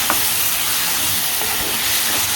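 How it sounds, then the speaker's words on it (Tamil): Chicken fried rice ingredients sizzle and hiss in a hot pan, a steady loud frying wash with faint scraping of stirring underneath. "இது எல்லாத்தையும் போட்டுட்டு நல்லா கிண்டி விட்டுடலாம்."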